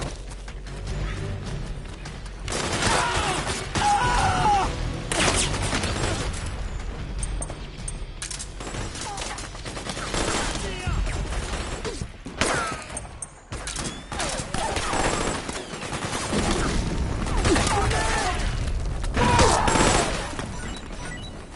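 A firefight in Metal Gear Solid 4 brings dense bursts of gunfire, crashes and booms that swell and fade in waves, with shouted voices in between.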